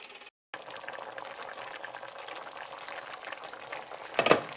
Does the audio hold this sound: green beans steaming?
yes